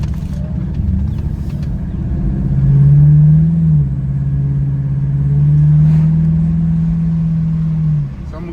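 A 2013 Chevy Caprice PPV police sedan, Holden-built in Australia, pulls away with a low, close engine rumble that swells twice as it accelerates and then drops off.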